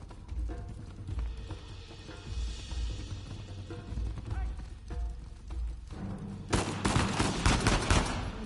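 Gunfire in the video game Uncharted 4: scattered shots and bursts over a rumbling battle backdrop, building into a dense, loud volley of rapid fire toward the end.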